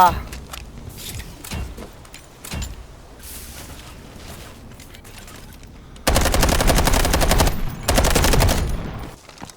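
Gunfire in the Delta Force video game: sharp scattered shots early on, then sustained loud automatic bursts in the last few seconds, with a voice talking underneath.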